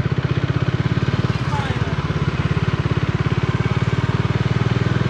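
A Bajaj Dominar 400 motorcycle on a road ride gives a loud, steady low engine thrum with an even pulsing beat that holds throughout, close to the listener.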